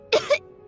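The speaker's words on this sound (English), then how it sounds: "He kept coughing all the time, just like me." A boy gives a quick double cough, two short dry bursts close to the listener, alone against quiet background.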